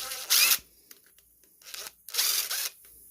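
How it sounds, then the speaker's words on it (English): Two short bursts of a power drill whirring during a garden hose repair, each about a quarter second, separated by quiet clicks and faint handling noises. "Get your power drill out."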